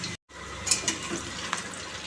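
Potatoes frying in a pan for a vegetarian meal give a continuous close sizzle with light stirring clicks, broken only by a brief dropout at the start.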